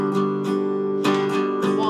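Open acoustic guitar strumming in a steady pattern, ringing chords with sharp strum attacks roughly every half second, played alone and close without muting.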